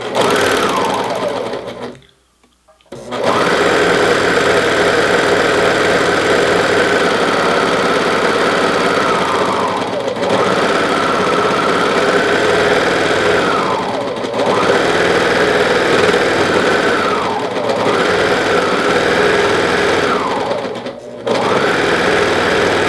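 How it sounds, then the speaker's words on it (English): A 4-thread overlock serger stitches a T-shirt seam in long, loud whirring bursts, pausing briefly between runs, with the motor pitch rising and falling as each pass starts and stops. "And I'm still using a 4-thread overlock."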